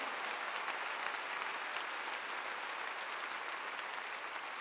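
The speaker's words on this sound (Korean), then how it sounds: "빨리 박수로 하나님께 영화드려요." A large church congregation applauding to glorify God at a revival meeting in a gymnastics arena, a broad, even roar of clapping from far off that holds steady throughout.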